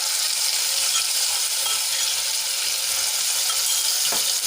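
Ginger, garlic and chili paste frying with cumin and a pinch of asafoetida in hot oil, a steady loud sizzle with faint stirring clinks throughout.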